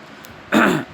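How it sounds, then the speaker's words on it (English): A single short, throaty cough or throat-clearing, close and fairly loud, lasting under half a second after a near-silent pause. "Cough, cough."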